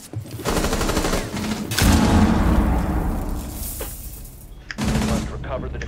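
Bursts of rapid automatic gunfire from an online shooter video game crackle loudly in two long volleys with a short break, then a final burst, while players talk excitedly over the shooting.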